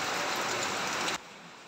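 Heavy rain falling steadily outside a window, a dense even hiss that runs for just over a second and then cuts off abruptly, leaving a much quieter background.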